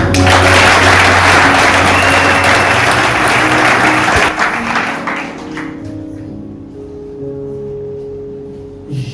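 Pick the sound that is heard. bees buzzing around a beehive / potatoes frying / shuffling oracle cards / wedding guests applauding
wedding guests applauding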